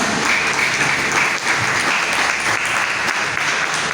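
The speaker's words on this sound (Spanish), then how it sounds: "Dale un fuerte aplauso al Señor." Church congregation giving strong, sustained applause, a loud dense wash of clapping hands filling the room without a break.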